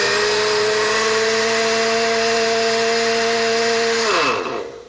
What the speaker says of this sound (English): Put the blender top on,